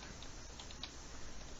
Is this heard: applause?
no